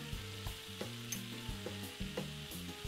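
Steak sizzling in a pan in the Taskmaster VR video game, a steady soft frying hiss over a looping low background tune with faint periodic clicks.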